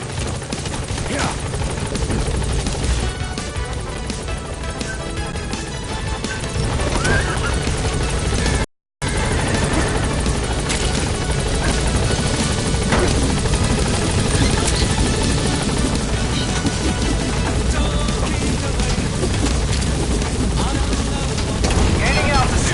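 A support helicopter in a video game keeps up a loud, continuous rotor drone for the whole stretch, with voices talking over it and one brief dropout partway through.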